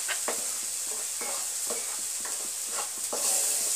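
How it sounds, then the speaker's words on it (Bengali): Chopped green chilies and fennel seeds sizzle in hot oil in a pan while being stirred for a pea-filled kachori stuffing, a steady soft hiss broken by regular scraping stir strokes. "কাঁচা লঙ্কা কুচি দিয়ে দিলাম।"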